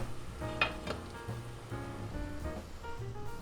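An omelet cooks in a covered pan with a soft, steady sizzle and a faint crackle, close and fairly quiet, with a brief clink early on.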